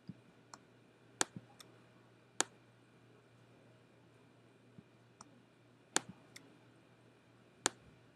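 A computer mouse clicks sparsely and crisply at close range in a quiet room, single and double clicks spaced irregularly over a faint steady hum, with no talking.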